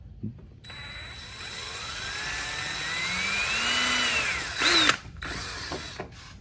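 A single sustained run of a power drill cutting into ATV plastic, motor pitch climbing gradually before it stops with a short rattle, followed by quiet handling noises.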